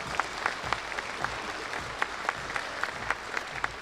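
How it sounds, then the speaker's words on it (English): Audience applause at a National Native American Hall of Fame gathering, sparse and moderate in volume, with individual claps standing out as distinct peaks over a steady wash. "give him a big round of applause"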